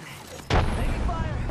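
A frag grenade in Apex Legends goes off as a sudden booming blast, followed by a rumbling, crackling tail over the game's ambient noise.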